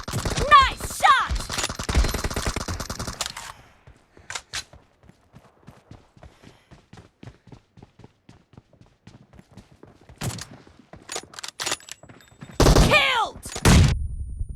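Gunfire in PUBG Mobile, with M24 shots: loud bursts of shots near the start and end, a quieter run of rhythmic footstep-like taps in the middle, with brief voices in between.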